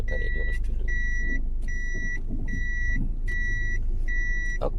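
A car reverses during parallel parking practice in Batu, East Java. Its reversing beeper repeats in a steady, evenly spaced pattern over a low, constant engine rumble.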